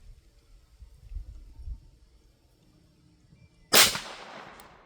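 A single sharp gunshot from an S&W 22A .22 LR pistol cracks loudly near the end at an outdoor target range, its report trailing off briefly after a stretch of quiet low rumble.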